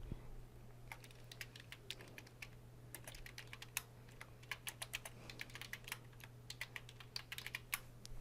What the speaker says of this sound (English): So I'll type a message in there